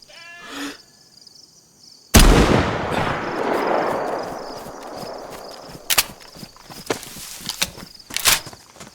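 A single sharp, loud gunshot from a rifle in the DayZ game, fired at a goat, followed by a long rolling echo and then scattered footsteps and smaller knocks.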